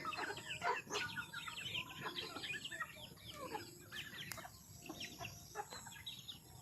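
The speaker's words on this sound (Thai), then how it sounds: "ให้อาหารน้องไก่กระออนก่อน" Chickens being fed cluck and chatter steadily at close range, a busy overlapping flock with occasional sharper calls over faint rustling and background noise, with no talking.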